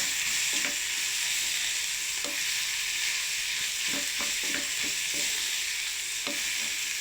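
Grated carrot thoran cooking in a pan sizzles steadily while a spoon stirs it, with scattered scraping and tapping strokes close by over the continuous frying hiss.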